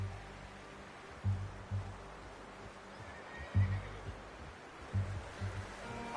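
Horses in the Red Dead Redemption 2 game give low snorting neighs and whinnies at intervals, over steady ambient outdoor noise at moderate level.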